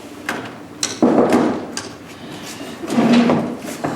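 Two bursts of knocking on a door, one around the one-second mark and another near the end, fairly close and firm, with a quiet room ambience in between.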